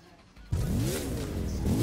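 A KTM 1290 Super Duke motorcycle engine fires up in a racing video game, catching abruptly after a quiet moment and settling into a loud, steady rumbling idle with a brief rev toward the end.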